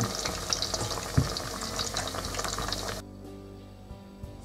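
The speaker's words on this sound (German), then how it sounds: "goldbraun frittieren." Plantain slices deep-frying Ghanaian style in hot oil, a busy crackling sizzle with stirring clatter that cuts off abruptly after about three seconds, leaving quiet background.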